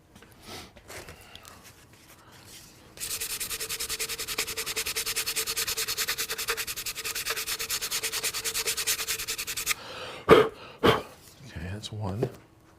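Foam for a Ghostbusters proton pack being sanded, a rapid rasping back-and-forth scrub that runs steadily for several seconds, with faint breathing and brief handling noises before and after.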